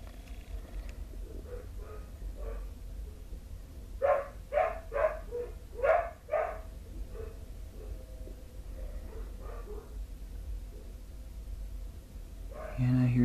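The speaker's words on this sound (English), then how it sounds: "Stubborn dogs." A short run of about six dog barks comes from a distance near a railway at West Ladysmith, faint over a steady low rumble of background noise.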